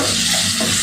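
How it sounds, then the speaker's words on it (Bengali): Spice paste fries in oil, a dense close sizzle with the rustle of steady stirring over a brief moment. "এবার এটাকে ভালো করে নাড়তে হবে যতক্ষণ না মশলাটা থেকে তেল ছাড়ছে।"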